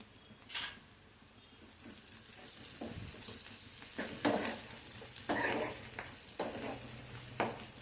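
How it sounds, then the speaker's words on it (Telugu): Two sprigs of curry leaves crackle and sizzle in hot oil, the frying growing louder after they drop in, with repeated spoon scrapes and stirring bursts over a steady hiss. "వేగుతున్నాయండి కరివేపాకు వేసుకుందాం రెండు రెమ్మలు కరివేపాకు వేసుకోవాలి"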